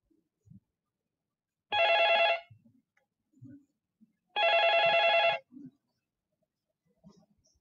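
A telephone rings with an incoming call, two long electronic trilling bursts separated by a pause, with soft scattered sounds between them.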